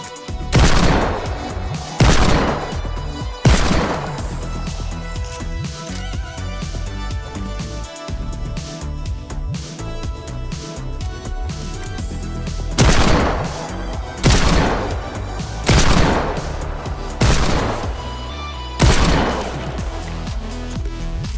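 Lawless Breacher hand cannon from a Fortnite mock-up firing in a series of loud, heavy booming shots, grouped in bursts with pauses between them and no talk.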